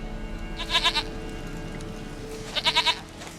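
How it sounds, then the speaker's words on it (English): A goat in The Witcher 3 video game bleats twice in short, quavering bursts, each a quick series of pulses, separated by a brief pause over a low ambient background. "sweetest goat."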